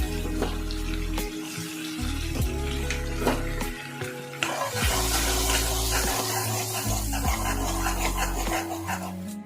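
Chopped onions hit hot oil in a pan over a gas flame and sizzle with a steady, hissing spray, loud and close, with clattering pan sounds in between and a dog barking several times in the background.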